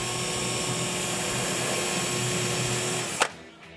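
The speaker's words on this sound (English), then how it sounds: "I've got a 5mm drill put into my cordless drill, and that's the correct size for these pins." A cordless drill with a 5mm bit drills a pin hole into a board using a jig. Its high, steady whine runs loud and close for about three seconds, then cuts off sharply.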